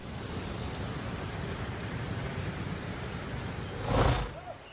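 Steady, dense torrential rain in Nainital, India, hisses throughout, loud and continuous, with a brief swell of louder noise near the end.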